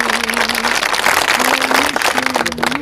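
Audience clapping at a political gathering, a dense, steady wash of many hands that holds even and loud throughout, with a faint tonal hum underneath.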